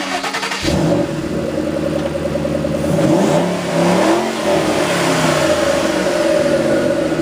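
A Shelby Mustang GT500 V8 engine fires up and revs several times, the deep roar rising and settling into a loud, burbling idle nearby.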